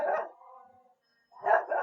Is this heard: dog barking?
yes